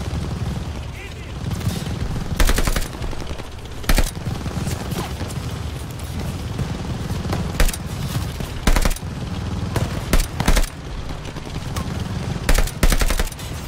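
Machine gun fire in the World War II shooter Call of Duty: Vanguard: loud rapid bursts of automatic gunfire recur every second or two over constant battle noise, with voices shouting between shots.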